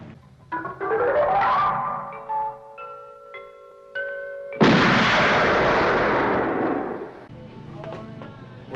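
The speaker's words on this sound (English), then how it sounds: "you might have heard a huge noise, a large explosion" A large explosion sound effect erupts with a sudden loud boom and a long rumbling decay, preceded by rising synthetic tones and sharp stabs.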